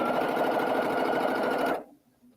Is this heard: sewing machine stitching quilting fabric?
yes